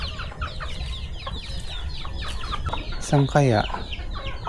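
Farmyard chickens cluck and squawk close by in quick bursts, with a louder run of clucks near the end and a person speaking briefly.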